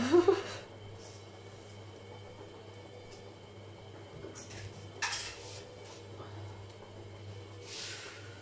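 Dishes and pots clatter and scrape while being washed after making leek quiche, with a loud clank at the start and scattered knocks over a steady low hum.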